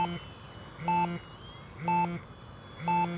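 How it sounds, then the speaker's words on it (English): An RC transmitter timer sounds in regular buzzy bursts about once a second, repeating four times over a quiet background hum. "It's beeping away."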